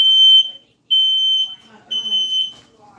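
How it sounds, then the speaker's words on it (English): Piercing smoke detector beeps in a home kitchen, set off by cooking, repeat in three long bursts, close and loud, while someone speaks quietly between and under them. "Smoke detector."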